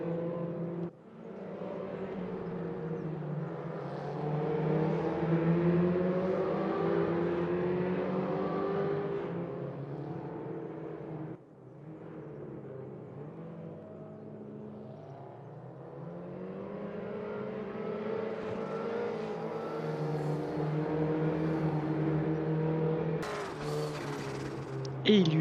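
Porsche 944 race cars jostle and overtake in the RaceRoom Racing sim at Circuit de Charade. Several engines drone together with rising and falling pitch sweeps, steady and fairly loud throughout, with a brief dip partway through.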